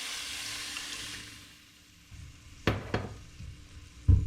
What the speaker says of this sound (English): stirring up my beef broth. I'm adding the beef broth. Get all the bits off the bottom.